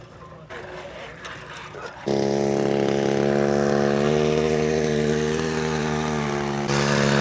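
A tractor drags a cultivator through hard, barren soil, its engine rising at about two seconds into a loud, steady harmonic drone that runs close and continuous to the end.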